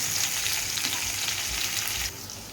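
Green chillies and cumin sizzling in hot oil in a pan, a steady close hiss with faint crackles that drops slightly near the end.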